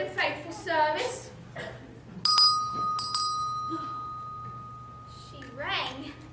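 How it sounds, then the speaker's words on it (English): A bedroom bell rings twice in a stage drama, two clear, sustained chimes that hang in the air, with voices speaking before and after. "The bedroom bell."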